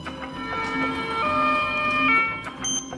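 An ambulance siren wails steadily for about three seconds, its tones sliding up and down, loud and fairly close with no talking over it.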